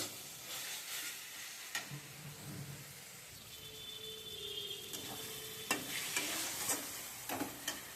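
Chopped tomatoes sizzle in a pan with mushrooms, a steady frying hiss under repeated scraping stirs of a utensil, close by and with no talking.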